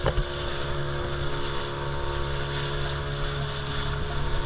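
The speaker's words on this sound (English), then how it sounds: "A few more boats coming behind as well." Steady droning of motorboat engines running close by off Lovina Beach, Bali, a continuous rumble with wind buffeting the microphone throughout.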